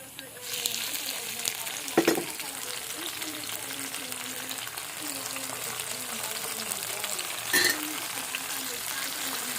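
Tomatoes go into a hot frying pan and sizzle in a steady hiss, with two sharper bursts of spatter as pieces land, while a voice talks quietly over the cooking.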